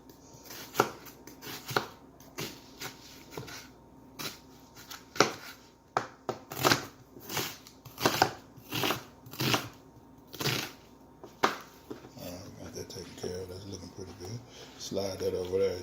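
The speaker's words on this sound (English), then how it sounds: "First I'm gonna cut up my onion here." A knife chops an onion on a cutting board for homemade chicken soup, with steady rhythmic close thuds roughly twice per second and a voice briefly heard near the end.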